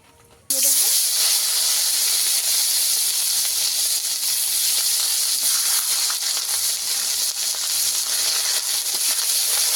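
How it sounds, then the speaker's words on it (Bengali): Oil poured into a hot pan just used for frying fish gives a sudden, loud, steady hiss that starts after a brief quiet moment and holds evenly to the end. "মাছ ভাজার তেলে আরেকটু তেল দিয়ে দেব।"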